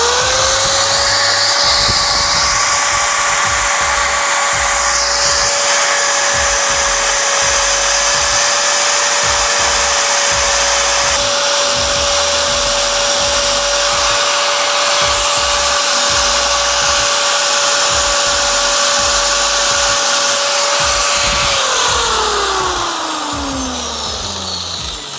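Power tool with sandpaper working the locators on a small-block Chevy LT1 engine cylinder head: a loud, steady high-pitched whine held close for about twenty seconds, then winding down as it stops.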